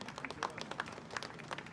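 Crowd applauding at a China military parade in Tiananmen Square, a steady patter of many hands clapping at a moderate distance, with faint voices mixed in.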